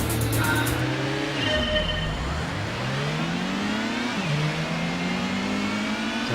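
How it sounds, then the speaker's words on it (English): A car engine in a 1998 PS1 racing game drones steadily as it accelerates, the pitch climbing and dropping with gear shifts in a continuous, loud whine. "Acceleration and braking."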